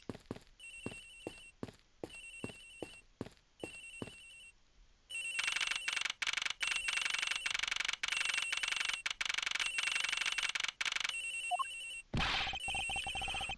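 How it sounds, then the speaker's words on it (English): Cell phone ringing in a detective video game set aboard an airliner, a bright electronic ringtone in short repeated bursts, then a long sustained loud stretch that cuts off near the end. "The ring is coming from somewhere in here"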